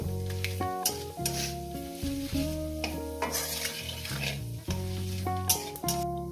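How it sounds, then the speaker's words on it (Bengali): Bay leaves, whole garam masala and cumin fry in hot oil, a steady sizzle half-buried under loud melodic background music that plays throughout. "দিয়ে দেবো গোটা গরম মশলা জিরে পুরো দিয়ে দিলাম কয়েক সেকেন্ড একটু ভেজে নেব"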